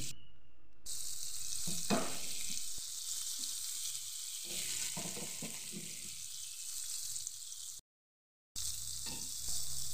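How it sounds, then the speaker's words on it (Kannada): Croaker fish sizzling steadily in hot coconut oil on a flat pan, a loud continuous hiss with brief crackles and clatters as pieces are placed, then a short silent gap before the frying resumes. "ಈಗ ಒಂದೊಂದೇ ಮೀನನ್ನು ಹುರಿಯಲಿಕ್ಕೆ ಕಾವಲಿಗೆ ಹಾಕುವ."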